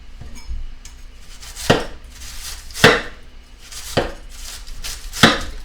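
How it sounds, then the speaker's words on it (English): A large, very sharp kitchen knife shaving a cabbage, giving five distinct crisp slicing strokes spaced about a second apart, close and clear with quiet gaps between. "I'm going to shave off this cabbage here"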